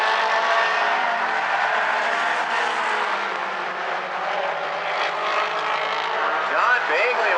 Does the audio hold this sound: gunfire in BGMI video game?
no